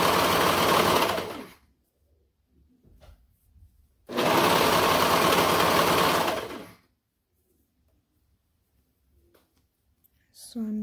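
A sewing machine stitches a stretched leggings waistband in two loud, steady bursts of rapid whirring, separated by near silence.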